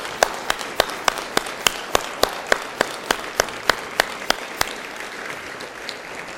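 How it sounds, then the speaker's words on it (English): Applause for student guests at a Rotary Club meeting in Columbus: a steady wash of clapping from a crowd, with a run of sharp, regularly spaced single claps standing out near and loud above it. "This is where it says thunderous applause."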